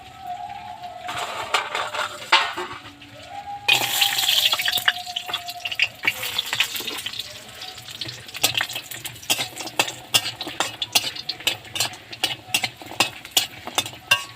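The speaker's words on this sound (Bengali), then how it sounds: "তেল দিয়ে আমি আগেই বড়িটা ভেজে নেবো" Bori lentil dumplings frying in hot oil in a kadai, a continuous crackling sizzle with irregular sharp pops and occasional stirring scrapes, close and fairly loud, with a brief tonal clatter early on.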